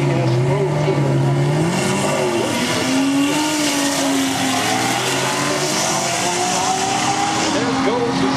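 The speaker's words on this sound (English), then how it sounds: "There goes the Z-Car." A 1974 Datsun 240Z race car passes with a loud, sustained engine drone whose pitch rises and falls, heard under steady announcer commentary at a racing event.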